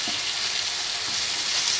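A chicken tandoori tikki shallow-frying in oil in a pan gives a loud, dense, continuous sizzle, close up and unbroken, with no voices.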